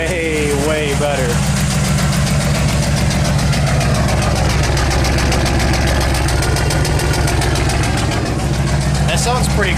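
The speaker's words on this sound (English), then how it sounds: "It's got a nice unequal length burble to it" A turbocharged Dodge Dakota pickup idles through a new turbo exhaust setup, a steady, loud, close unequal-length burble with a lumpy low rumble throughout, with a person talking over it.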